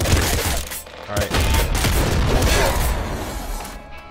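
Rapid automatic gunfire in the top-down shooter Nuclear Throne, a dense, loud stream of shots with explosive booms mixed in, continuous across the clip over busy game effects.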